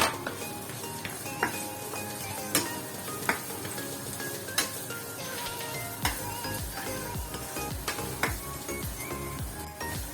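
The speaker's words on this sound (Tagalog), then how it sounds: "And add the onions. Then mix." Onions fry in a pan for Filipino-style chicken afritada, a steady sizzle broken by repeated clinks and scrapes of a utensil stirring against the pan, with no talking.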